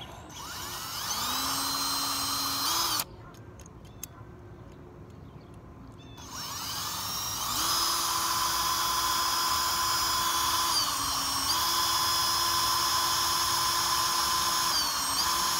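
Small power drill whirring steadily against a rivet while a custom diecast NASCAR model car is taken apart, its pitch shifting as the bit bites and a brief gap in the middle, close and loud without talk.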